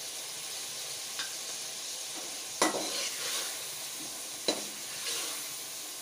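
Chillies fry with tomatoes, salt, turmeric and cumin in a karahi while a spoon stirs them. A steady sizzle runs throughout, broken by a few sharp scraping strokes of the stirring.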